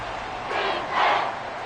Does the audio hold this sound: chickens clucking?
no